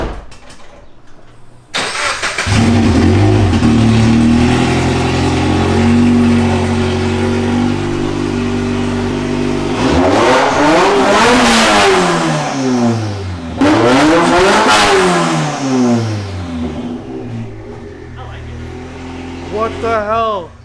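A car running with no front pipe starts up, idles roughly, then revs loudly in repeated rising and falling blasts, close and harsh, with people talking and reacting over it.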